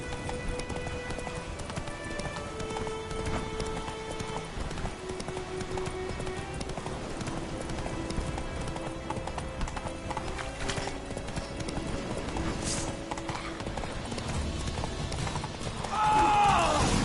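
Geralt's horse Roach gallops in The Witcher 3, its hoofbeats running steadily under a dense game soundscape of music and ambience, with a voice speaking briefly.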